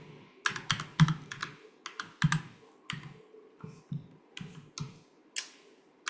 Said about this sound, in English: I can type reflect, open parentheses, and then type my list of lists.